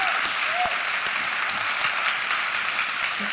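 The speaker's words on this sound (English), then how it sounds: "How about a round of applause for David and Sherry and the entire development team?" At the Jewish Federation of Cincinnati's annual meeting, a room full of people applauds David, Sherry and the development team with loud, continuous clapping and a few faint voices mixed in.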